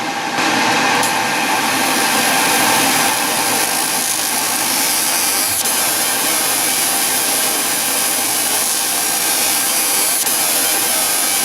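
Fiber laser engraving a touchmark into a metal workpiece, a loud, continuous hiss and whir of the machine with a steady fan-like hum throughout, no speech.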